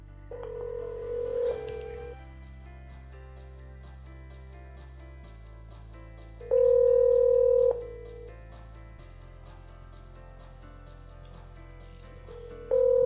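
A VoIP softphone placing a call through a FreePBX home or office phone system, with two long electronic ringback tones several seconds apart and a third starting at the end, and quiet gaps between them.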